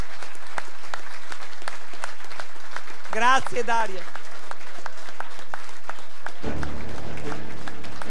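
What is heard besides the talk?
applause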